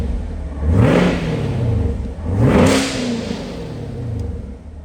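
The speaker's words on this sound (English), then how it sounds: "gonna give it a couple revs for you guys." A 2018 Chevy Camaro 2SS with a 6.2L V8 and 8-speed automatic revs twice in quick succession, each blip rising and falling close by, with a steady idle rumble between.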